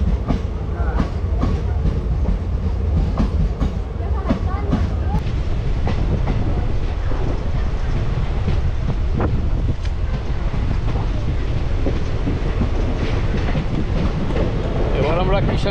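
New Jalpaiguri–Malda Intercity passenger train running from Bongaigaon toward Malda Town, a loud, steady rumble with rhythmic wheel clicks on the rails and wind buffeting, heard from on board throughout.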